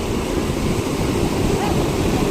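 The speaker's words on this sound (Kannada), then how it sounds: "ಎಷ್ಟು ನೀರು ರಭಸವಾಗಿ ಹೋಗ್ತಾ ಇದೆ, ತುಂಬಿ ಹರಿತಾ ಇದೆ ಡ್ಯಾಮ್ ನೀರು." Water released into the Marikanive dam channel surges past in a dense, steady roar, loud and close with wind noise on the microphone.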